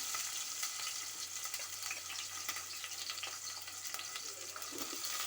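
Sliced onion and green chilies fry steadily in a pan for egg dum biryani, a dense, continuous sizzle with light stirring scrapes throughout, close and even in level.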